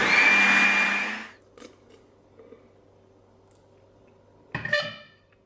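A blender whirs loudly for about a second while making a smoothie with fruity milk cereal-flavored protein powder, then cuts off, leaving quiet clinks and a brief rattle of handling near the end.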